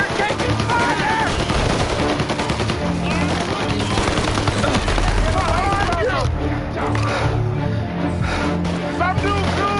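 Dense, loud gunfire in the video game Mafia Definitive Edition, with continuous machine-gun bursts and rapid shots layered under shouting game voices and music throughout.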